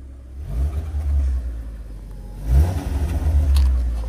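Ford Cougar 2.0i 16v engine revved in a couple of throttle blips, a close low rumbling rise and fall repeated twice.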